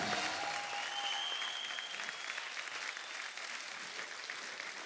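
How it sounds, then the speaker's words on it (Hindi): Applause from a studio audience on a Hindi comedy talk show, a steady dense wash of clapping that holds at an even level for the whole stretch with no talk over it. "एक बार जोरदार तालियां हो जाए"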